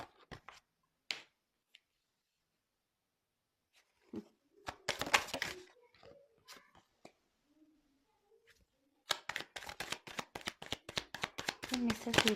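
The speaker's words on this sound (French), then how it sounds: "je tire les cartes" Tarot cards shuffled and drawn for a reading, starting with sparse soft flicks and card handling, then a dense run of rapid close riffling at the end, with a few quiet noises in the pauses.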